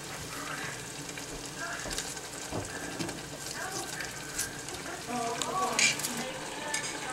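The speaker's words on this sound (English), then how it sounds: "I'm going to put the onion in now." Onion sizzles steadily in a hot pan for an escovitch fish dressing, a continuous close frying hiss with faint stirring and pan clinks, while voices talk lightly over it.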